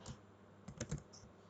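A few quick keystrokes on a computer keyboard as a Linux command is typed, soft close clicks with a slightly louder cluster near the end.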